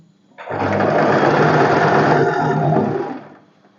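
Sewing machine stitching a boatneck dress, one continuous close whirring run of about three seconds that starts abruptly and winds down at the end.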